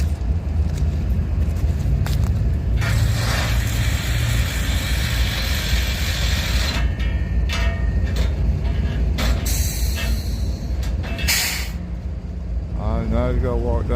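A freight train rumbling close by through Abbeville, with steady low rolling noise and clanks of passing cars, someone talking over it.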